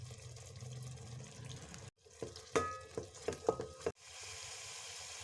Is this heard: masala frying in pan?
yes